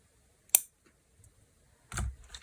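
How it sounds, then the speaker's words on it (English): Scissors cutting through a leaf stem, with a single sharp snip followed by a softer, lower crunch a moment later, close and quiet with no talk. "Just going to cut off this stem"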